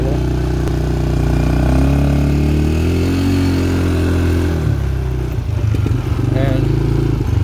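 A 2006 Eton Viper 150 engine runs steadily in gear with the throttle worked, a loud, close motor drone with small shifts in pitch throughout, and no talk over it.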